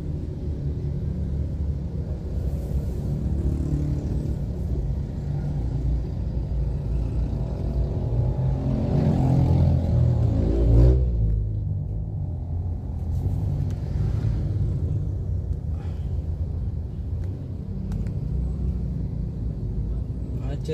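Congested traffic on the road at the Beli bridge in Bau-Bau, a steady low rumble of idling and slowly moving vehicles with engine noise swelling midway, heard close and continuous while someone talks over it.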